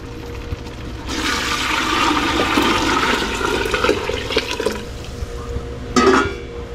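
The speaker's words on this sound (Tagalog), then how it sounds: "lalagay ko na po ito pinainit natin na tubig." Heated water pours into a cooking pot in a steady rushing, splashing stream for several seconds, then stops, and a brief extra splash follows near the end.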